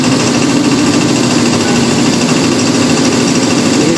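A loud Mahindra Blazo BS6 diesel truck engine running steadily with a rough, rattling drone that stays constant throughout, while blowing black smoke.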